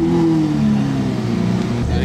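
A sports car fitted with a Capristo exhaust revs loudly and close by, its tone sweeping downward as the revs fall away. Voices talk over the engine.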